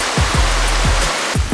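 Small waterfall in Mtirala National Park, Georgia, giving a steady close rushing wash of water, with a few low thumps and handling bumps over it and no talking.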